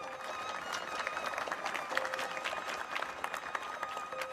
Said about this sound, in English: A wave of heartfelt applause rose among the people